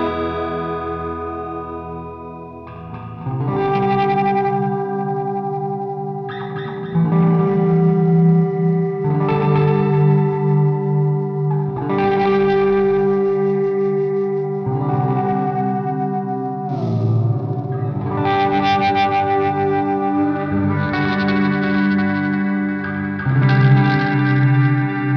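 A Death by Audio and EarthQuaker Time Shadows delay pedal on electric guitar, with repeated chords trailing into modulated, echoing, reverb-washed repeats that swell and overlap in an ambient wash, loud and with no talk.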